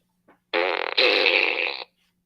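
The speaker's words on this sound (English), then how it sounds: "Did you guys miss the fart gun?" A toy fart gun lets out one loud, long, wet, buzzy blast of about a second and a half, with a brief sputter partway through, right up close and with no voices over it.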